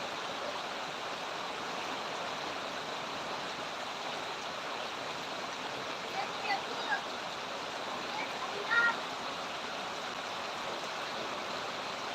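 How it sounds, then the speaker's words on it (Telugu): Rain floodwater rushing through streets like a canal in Nandyal, a steady broad roar of flowing water with faint scattered knocks and no talk. "ఒక చెరువు మాదిరి ప్రవహిస్తుంది నీరు"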